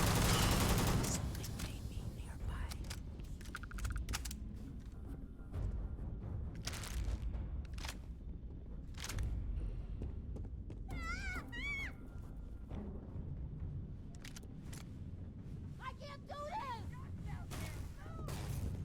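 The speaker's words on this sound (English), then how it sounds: "They're just shooting them." Gunfire in the sci-fi game Starfield crackles as repeated short bursts through a busy mix of game sounds, with people talking over it and a cat meowing close by.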